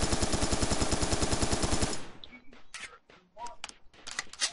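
An assault rifle fires fast, loud automatic bursts in the video game Serious Sam 3, a rapid even rhythm of sharp reports that stops abruptly, followed by scattered thuds and clicks.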